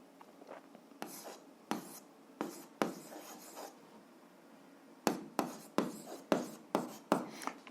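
Pen writing out the solution to a seventh-grade algebra exercise by hand, heard as a series of short scratchy strokes in two bursts, close and fairly quiet, with no talk.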